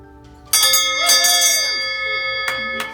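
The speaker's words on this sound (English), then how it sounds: "Ring this bell 3 times well." A hand bell is rung to mark the end of a patient's treatment, with bright ringing strikes whose tones linger and decay, close and loud with no talking.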